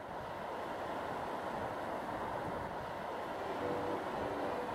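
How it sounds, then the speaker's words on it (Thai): Sea waves wash onto a beach in a steady, even surf wash, soft and continuous throughout with no voices. "ที่ชายหาด ก็มีคลื่นจากทะเล ซัดเข้ามา"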